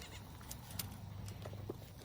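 Goat bleating on a small farm, a few short calls standing out from steady low background noise.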